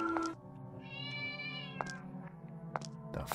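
A cat in the video game Mad Father gives a drawn-out, high, wavering meow, close and clear, with a few short clicks and game sounds around it.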